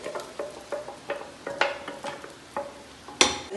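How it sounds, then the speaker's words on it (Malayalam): Green masala paste frying in a pan while being stirred, a soft sizzle under a regular series of sharp spoon scrapes and taps against the pan, about one every third of a second, close and clear. "അപ്പോൾ എല്ലാ മസാലയും ഇതിലേക്ക് ചേർത്തിട്ട് മൂപ്പിക്കാണ് ഞാനിവിടെ"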